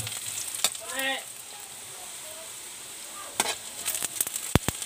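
Ginger and garlic hit a hot frying pan with a low, steady sizzle, broken by a few sharp clanks and scrapes of a utensil against the pan nearby.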